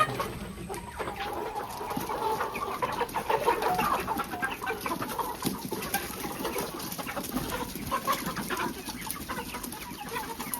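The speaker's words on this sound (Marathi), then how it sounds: "आमची कोंबडी झाली आहेत मोठी" A flock of about a hundred chickens clucking continuously in the background, many overlapping calls at a moderate distance, with no talking.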